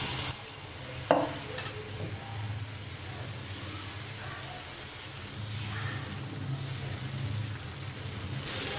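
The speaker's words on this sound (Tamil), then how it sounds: "கல் நல்லா சூடேறிடுச்சு. இப்போ நம்ம தோசை ஊற்றிக்கலாம்." Dosa batter spreads over a hot stone griddle, giving a soft, steady sizzle after a single clink of the ladle, fairly faint and without talk.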